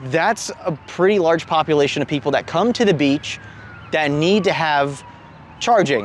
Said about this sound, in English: As an ambulance comes screaming down the road